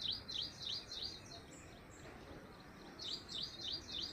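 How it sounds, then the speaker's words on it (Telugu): Small birds chirp near a large lake in a city park, with quick repeated high tweets in short bursts at the start and again at the end, faint and somewhat distant over a soft outdoor hush. "పక్షులు భలే కిలకిల రాగాలు చేస్తున్నాయి"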